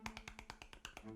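A rapid run of sharp, close slaps or claps, about ten quick hits in just over a second, crisp and evenly spaced with no voices.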